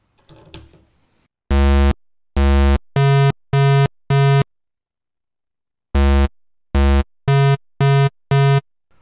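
Pulse waveform from an ARP 2600 synthesizer, sounding as two runs of five bright, buzzy sustained notes with short gaps between them, loud and alone, the first run following a brief stretch of faint noise.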